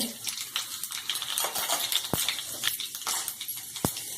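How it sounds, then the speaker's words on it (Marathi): Mustard seeds crackle and pop in hot oil, tempering for vatli dal, with dense continuous sizzle and scattered sharp pops close by, no talk. "तेल तापलं की नाही बघायचं आणि त्यामध्ये मोहरी घालायची मोहरी आता चढचडू लागले"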